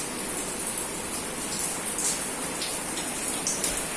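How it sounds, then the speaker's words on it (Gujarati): Steady heavy rain pours down in a dense, even hiss of drops striking surfaces, with faint brighter splashes scattered through it and no voices. "ક્યારનો એટલે ક્યારનો આવે છે વરસાદ. આજ સારો આવી ગયો."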